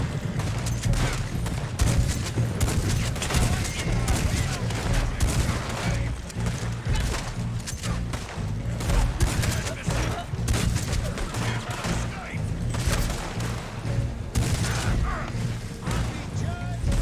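Continuous gunfire rattles in Red Dead Online, with dense bursts of rifle and pistol shots crackling over a low rumbling backdrop while a player talks intermittently.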